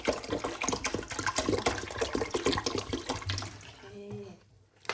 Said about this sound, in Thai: เราก็จะเติมน้ำเพิ่มอีกนิดนึงนะคะ น้ำเปล่าเนาะ